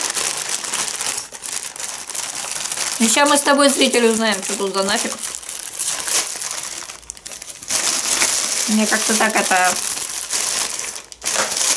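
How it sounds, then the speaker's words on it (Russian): Scissors cutting open a plastic parcel package from AliExpress, with close crinkling and rustling of the plastic running throughout while someone talks over it. "Сейчас я тут это ножницами поорудую."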